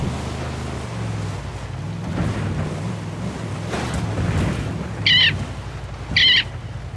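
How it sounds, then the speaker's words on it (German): Two short, bright bird calls ring out in the Ghost Recon Wildlands game world, each a brief warbling burst close and loud, about a second apart, over steady wind-like ambient rumble. "Den Vogel gehört, ey? Wahnsinn."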